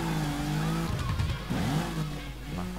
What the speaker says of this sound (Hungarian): Ez, amivel megyek most, ez is egy új autó éppen